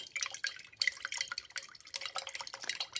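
Water from a tap runs and splashes steadily while a paint brush is rinsed under it, producing a continuous, uneven, close-up trickling with small drips.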